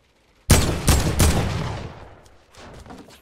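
Gunfire in a Fortnite solo battle royale tournament: three rapid close shots ring out in quick succession with a long decaying tail, then faint distant shots trail off afterward.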